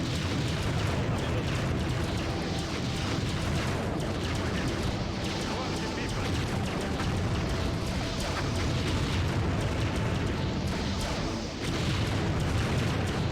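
Steady, continuous rumble of booms and blasts as buildings are destroyed in the strategy game Empire Earth, a dense wall of explosions and gunfire-like cracks holding at an even level throughout, with no clear speech.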